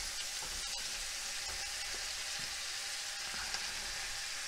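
Broccoli hits a hot pan in a beef and broccoli stir fry made with leftover ribeye steak, producing a continuous, near sizzle with soft clatter and scattered crackles; no one speaks.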